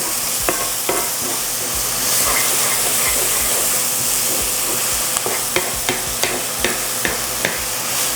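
Onions sauté in a pan for lechon sauce, a close, steady sizzle with a run of crisp spoon scrapes and clacks against the pan toward the end, and no talking.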